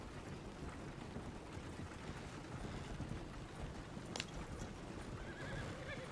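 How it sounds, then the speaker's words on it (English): A horse in Red Dead Redemption 2 gives a short whinny partway through, set against a steady rumbling wash of rain-like ambient noise, with no talking. "I think the horse is getting skittish."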